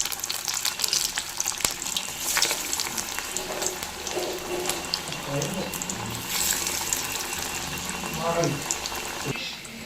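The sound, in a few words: parippu vada (lentil fritters) frying in hot oil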